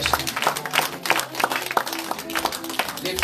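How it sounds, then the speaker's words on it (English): A church congregation at Malden Fellowship claps for the Lord, quick uneven handclaps rising and falling under a loud voice and some background music. "Give the Lord a better clap in Jesus' name"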